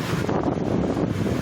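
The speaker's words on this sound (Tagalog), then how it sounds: "Grabe yung hangin eh." Storm wind during a thunderstorm in Metro Manila roars and buffets the microphone in a dense, loud, unbroken rush of noise.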